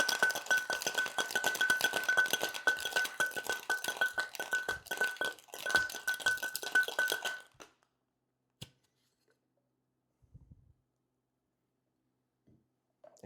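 Vigorous rapid rattling of ice inside a metal shaker for about seven seconds, then it stops, leaving a few faint knocks.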